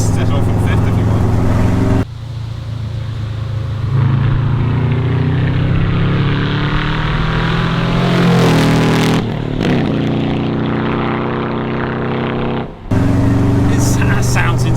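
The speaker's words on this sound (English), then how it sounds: "I love the sound of a Subaru" A Subaru engine swapped into a Fiat 500 accelerates hard, loud and close, its rising engine note climbing through gears with brief breaks at each shift, and a voice talks over part of it.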